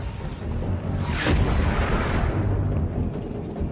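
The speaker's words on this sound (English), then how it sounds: "Ghost Troop fires repeatedly until the Iraqi tank company is all but destroyed." Tank cannon fire in a Gulf War battle, Ghost Troop engaging an Iraqi tank company in Desert Storm: a heavy boom near the start of the second second, then a sustained loud rumbling roar of battle, no speech.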